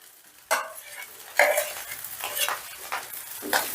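Soya paneer pulao with fried cashews and raisins is stirred in a pan, giving several separate scraping, sizzling strokes in an uneven rhythm, fairly close and clear, with no talking.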